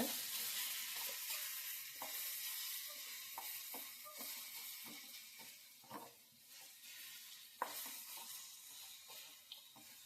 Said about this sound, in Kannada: ಈ ರೀತಿ ಹಸಿ ವಾಸನೆ ಹೋಗೋ ತನಕ ಹುರ್ಕೋಬೇಕು ಎಣ್ಣೆಗ